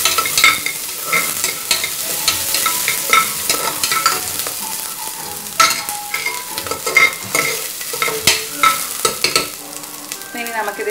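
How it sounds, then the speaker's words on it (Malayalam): Chopped onions sautéing in a pan for a coconut milk vegetable pulao, with a steady sizzle broken by repeated sharp scrapes and clinks of a spoon stirring against the pan, close up and with no talking. "സവോളയും കൂടി ഒന്ന് അരിഞ്ഞു ഇതൊന്ന് ചെറുതായിട്ടൊന്ന് സോട്ട് ചെയ്യണം"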